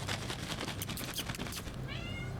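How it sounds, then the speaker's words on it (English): Cat meowing in the Baldur's Gate 3 video game, a short bright meow near the end after a stretch of busy, noisy game ambience. "Meow. She's very loud."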